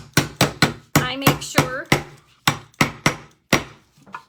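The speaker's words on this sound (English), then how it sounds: "make sure that you put your lid back on your stain. And I have a cute little hammer." A small hammer taps the lid shut on a Rust-Oleum ebony stain can, about a dozen sharp, close knocks in an irregular rhythm, with a brief bit of talk partway through.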